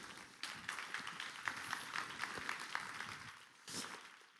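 An audience at a French panel on ethno-racial inclusion claps for a Netflix France communications director, a modest round of scattered hand claps that builds, then tapers off before a brief final burst.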